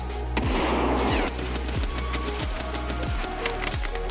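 Gunfire in the video game Escape From Tarkov, a burst of rapid close shots followed by several spaced single cracks, loud with no talk.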